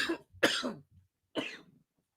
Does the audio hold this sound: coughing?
yes